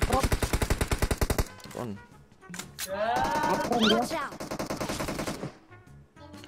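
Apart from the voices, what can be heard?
gunfire in the video game PUBG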